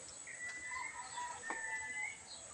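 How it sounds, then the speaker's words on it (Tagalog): A faint rooster crows near a chicken coop, with a drawn-out call in the distance, soft clucks and a steady high insect-like hum over quiet outdoor background. "Kubo ito ng manok ko."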